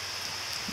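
Steady rain pattering in a soft, even hiss, with faint low rumbles near the end.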